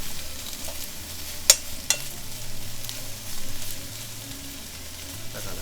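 Eggplant and konjac stir-frying in a pan over low heat, a soft steady sizzle close by with a couple of sharp clicks of a utensil against the pan.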